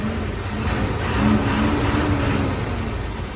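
A heavy loaded truck, a Tata or Bharat Benz, pulling away on a road, its engine giving a steady broad mid-pitched rumble and whir that swells a little as it accelerates, close and continuous.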